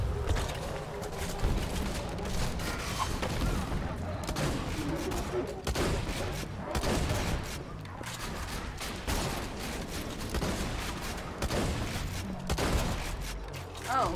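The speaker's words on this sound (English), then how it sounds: "that was a shotgun to the face" Shotgun blasts and other gunfire ring out in the video game Borderlands 2, a rapid series of loud bursts and booms running throughout, mixed with game effects.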